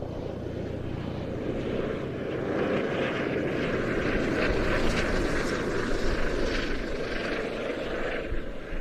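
An Airbus Juno or Jupiter, identically painted Royal Air Force training helicopters, passes at an air show departure, giving a loud, steady broadband roar with a faint rotor throb that holds near full strength for about nine seconds.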